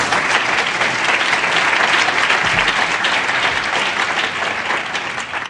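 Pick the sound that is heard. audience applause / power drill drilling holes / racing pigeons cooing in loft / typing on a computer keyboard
audience applause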